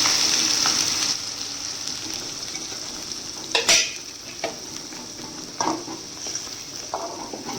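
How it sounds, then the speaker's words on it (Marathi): Mutton masala roasting in hot oil in a kadhai, a steady soft sizzle with scattered sharp scrapes and clinks of a spoon stirring against the pan. "याला तेल सुटतपर्यंत छान पुन्हा एक वेळा पुरतं भाजून टाकू आपण भाजते मी"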